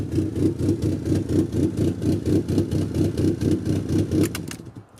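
A car engine runs with a strong, pulsing low throb that repeats at a steady rhythm, loud and close, then fades out near the end; no one speaks.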